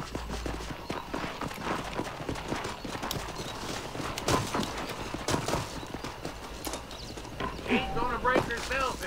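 Hooves clip-clop steadily from a wild horse being broken in Red Dead Redemption, with occasional snorts and whinnies and a voice talking over the scuffle.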